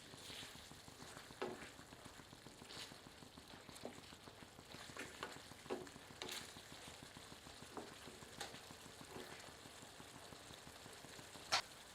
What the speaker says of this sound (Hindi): सबको अच्छी तरह मिलाते हैं और 2 से 3 मिनट मध्यम आंच पर भूनते हैं